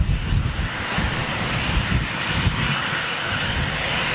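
An Airbus A320 jet at Manchester Airport roars loud and close, a continuous, heavy engine rumble mixed with wind buffeting.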